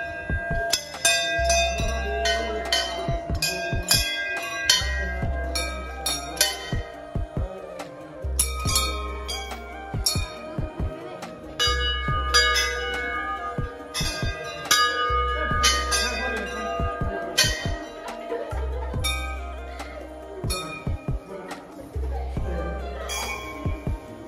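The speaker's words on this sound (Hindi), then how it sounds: "यहाँ में ऐसे हमको घंटी बजाना पड़ता" A temple bell is rung repeatedly in bursts, each bright metallic clang ringing out with long shimmering decay, loud and close, with people talking faintly around it.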